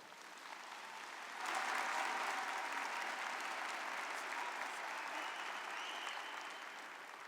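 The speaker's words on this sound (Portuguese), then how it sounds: "Dê uma salva de palmas para Jesus" A church congregation breaks into strong applause for Jesus during a Portuguese-language sermon, the clapping swelling suddenly after a quiet start and holding as a dense, steady wash of many hands.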